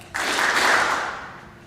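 A short burst of applause from an audience at a middle school awards assembly, rising sharply and then fading out over about a second with no voices over it.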